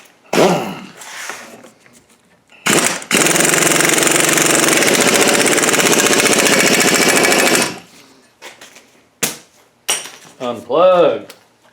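Air compressor in a workshop kicking on with a loud, steady mechanical roar for about five seconds before cutting off, with clanks and someone speaking before and after.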